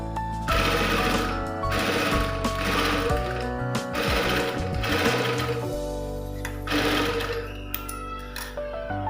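Sewing machine stitching a lined blouse, running in steady bursts of rapid needle clatter with short pauses between seams, close and fairly loud with no talking.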